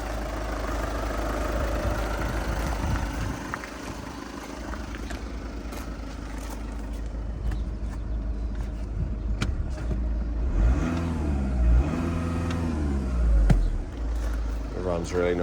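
A 2009 Audi A3 S-Line convertible with a 2.0 TDI diesel and six-speed manual idles steadily, a low continuous engine rumble close by, while someone talks over it for most of the stretch.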